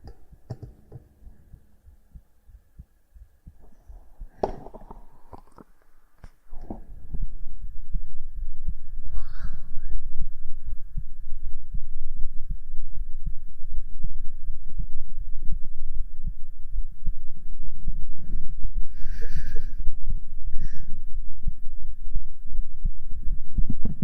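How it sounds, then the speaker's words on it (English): A person's own heartbeat is picked up close on a sensitive microphone, a loud, steady low thumping throb that runs continuously after a quieter opening with a few handling knocks. "my heartbeat is not a game to try to get to go faster"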